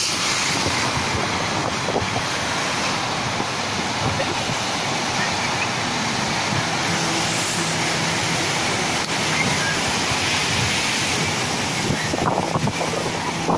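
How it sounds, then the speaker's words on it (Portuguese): Pacific Ocean surf at Antofagasta, Chile, a continuous broad wash of breaking waves and wind buffeting the microphone, steady and fairly loud throughout. "Uma palhinha do Oceano Pacífico,"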